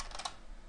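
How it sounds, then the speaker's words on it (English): Keys tapped on a computer keyboard while code is entered, a quick burst of a few clicks over a short moment, close and fairly quiet. "just type system"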